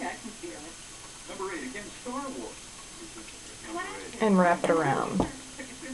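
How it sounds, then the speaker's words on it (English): A cat meows several times close by, short rising cries that grow louder toward the end, mixed in with a person talking indoors. "Pardon the cat."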